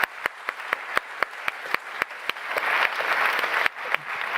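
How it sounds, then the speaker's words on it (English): An audience at a 2021 venture award ceremony claps, starting as sparse, evenly spaced sharp claps that swell into a brief burst of fuller applause before thinning out again. "You can give some applause, for sure."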